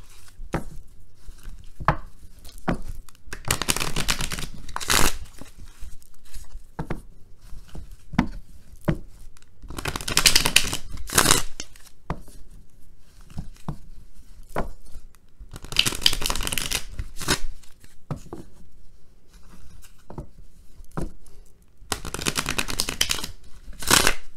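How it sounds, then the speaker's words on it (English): Tarot cards being shuffled in repeated quick riffling bursts, each lasting a second or two, separated by short pauses and light handling noises. "give me a couple seconds to shuffle"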